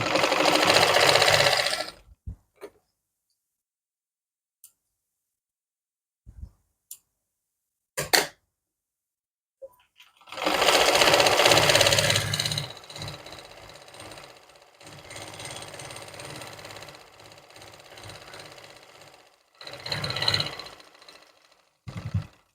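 A sewing machine stitches the fitting seam of palazzo trousers in two runs, a short burst and then a longer steady whir broken by brief pauses, with clicks from the machine in between.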